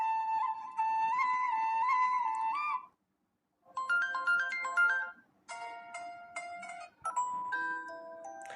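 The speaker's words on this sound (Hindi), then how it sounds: "एक रिंगटोन आपको इधर प्ले करके सुनाता हूँ" A mobile phone ringtone plays, a bright electronic melody in clear repeated phrases that stops once after a few seconds and then resumes with new tunes, loud and close with no talk.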